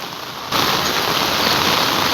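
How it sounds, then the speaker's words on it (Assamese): Heavy rain pours down steadily in Meghalaya, a dense, continuous hiss that starts abruptly after half a second of quieter background and then holds loud and even throughout. "এতিয়া একদম পূৰা বৰষুণ"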